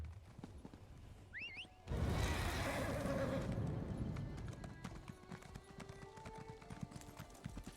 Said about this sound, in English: I do not like the mushroom horse.